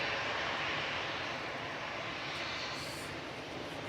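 A jet airliner leaving Manchester Airport for Zurich gives off a steady, broad, moderately distant engine roar that holds throughout without talk.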